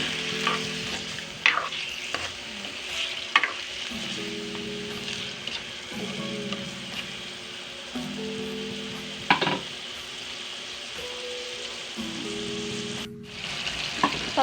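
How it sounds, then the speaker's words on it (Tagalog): Chicken afritada, a Filipino chicken stew, bubbles and hisses in a pot, a steady close simmer punctuated by short knocks and clinks of stirring every couple of seconds. "Pakuluin muna natin ito."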